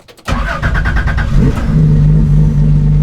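A powerful street-legal race car engine barks to life with a few sharp bursts, then settles into a loud, steady throaty rumble close by.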